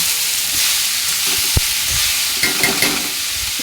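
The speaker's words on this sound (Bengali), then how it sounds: "এই পর্যায়ে আমি এর মধ্যে দিয়ে দিলাম লাউয়ের কুচিগুলি" Chopped bottle gourd dropped into a frying pan for a mung bean gourd stew, giving a steady oil sizzle and hiss with a brief thump as the pieces land, then stirring scrapes near the end.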